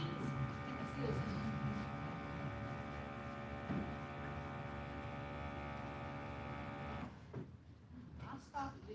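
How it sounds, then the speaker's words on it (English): A bag sealer heating and closing a bag of corn on a family farm gives off a steady electric hum with harmonic buzz that cuts off abruptly near the end, while a person talks over it. "It comes down, it heats, and it seals it."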